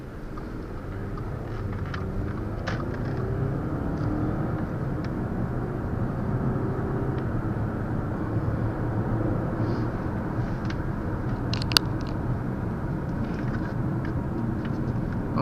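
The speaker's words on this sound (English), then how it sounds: "This car drives really smooth." Steady low rumble of a 2014 Audi A4 Premium driving, smooth road noise and engine hum heard from inside the cabin, with a few faint clicks and one brief tick.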